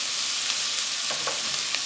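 Seasoning being stirred into garlic frying in a pot, heard as a steady, loud sizzle with faint scraping stir sounds close up and no voices.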